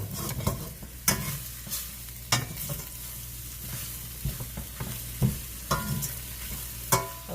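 Beef and broccoli frying in a pan rather than a wok, a constant sizzle broken by sharp scraping and clacking stirs that recur every second or so, close and clear.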